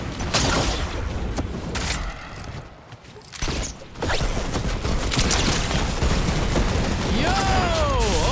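Proximity grenade launcher firing in Fortnite, dense bursts of loud booms and gunfire-like blasts with mechanical clatter, a brief lull midway, then continued explosions with a rising whine near the end.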